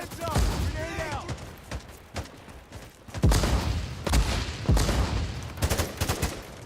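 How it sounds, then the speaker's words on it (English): Explosions and gunfire from a 1983-era Cold War tactical shooter, several sharp booming blasts spread through the clip amid rattling shots, loud and close, with a player talking over parts of it. "Frag out. Heads up. Grenade out."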